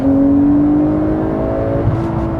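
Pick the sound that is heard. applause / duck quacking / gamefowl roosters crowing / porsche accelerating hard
porsche accelerating hard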